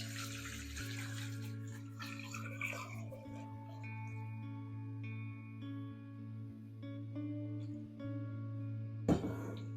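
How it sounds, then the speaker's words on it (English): A gallon of water pours steadily into a large stock pot holding a whole chicken and thyme, a continuous splashing stream under a low hum, ending with a short clatter. "And now we're going to pour over 1 gallon of water."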